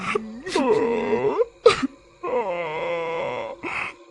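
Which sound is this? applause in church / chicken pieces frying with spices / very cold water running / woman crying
woman crying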